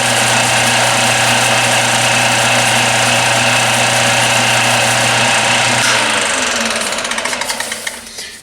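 A 4R70 transmission drum spins on a machine while Scotch-Brite polishes it, producing a loud, steady motor hum with a bright abrasive hiss, then the machine winds down into a rapid, fading rattle as it stops.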